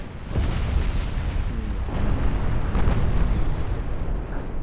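A warship blows up in a flash fire during a naval battle video game, a loud, sustained rumbling roar of explosions with rolling bursts throughout, close and heavy.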